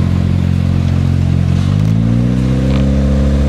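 Loud, close engine drone of an old car with no power steering and a flat tire, its harmonic pitch climbing as it pulls away and gathers speed.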